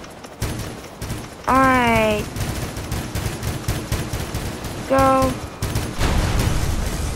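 Heavy cannon fire in a battleship video game booms over a steady din of battle noise, with two loud bursts carrying descending tonal wails. A voice speaks briefly.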